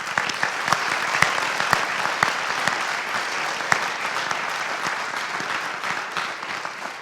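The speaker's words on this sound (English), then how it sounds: "So if we can give them all a round of applause." A school athletic awards audience applauds its skiers with steady, full clapping. Sharp individual claps pop out near the front, and the applause holds evenly for several seconds before thinning slightly.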